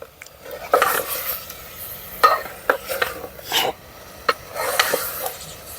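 Spoon stirring chicken curry in a pot, with scraping, clinking strokes in uneven bursts, close and fairly loud, amid faint background noise.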